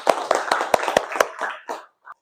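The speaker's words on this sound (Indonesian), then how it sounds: "Tepuk tangan untuk kita semua." A small classroom group claps in a short burst of about six sharp, close hand claps that loosens into scattered softer claps and fades out.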